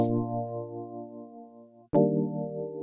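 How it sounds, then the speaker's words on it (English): A sustained synthesized MIDI instrument chord, transposed down a semitone, rings out and fades, then a second chord strikes sharply and holds, close and clear with no voices. "We could take a pitch MIDI device on all of our MIDI instruments and transpose it down."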